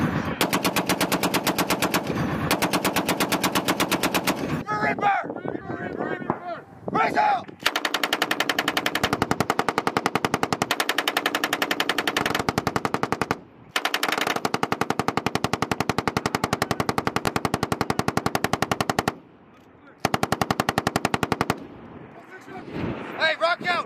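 A Marines' heavy machine gun hammers out long, loud, sustained bursts during a live-fire exercise at 29 Palms, with short pauses between volleys and close, rapid, evenly spaced reports.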